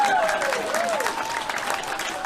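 Audience clapping at a gathering in Hawaii, a steady wash of many hands close by, running the whole time with a voice sliding along on top.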